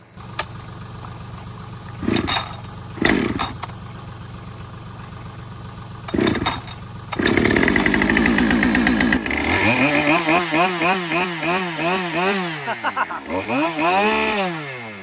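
A Husqvarna 572 chainsaw is pulled over in short bursts, then catches and runs loud and close, its engine note rising and falling as it is revved repeatedly.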